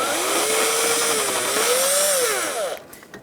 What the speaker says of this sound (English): I'm going to use a Phillips head screwdriver and take out these screws